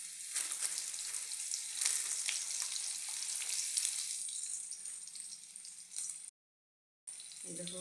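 Chopped onion and green chili fry in hot oil with a loud, steady sizzle that crackles throughout, breaks off into a brief silence near the end, then returns.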